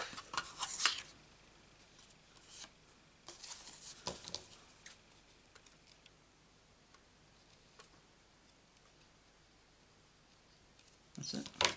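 A small paper trimmer slicing cardstock for a Stampin' Up card, with a few quick close clicks and a short swish of the blade near the start and the end, quiet surroundings between.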